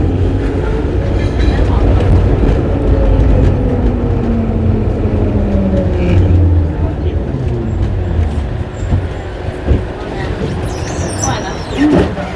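Vintage tram ride through Budapest, with a loud, continuous low rumble of wheels and motor close by, shifting tones as it moves and a brief hiss near the end, under occasional voices.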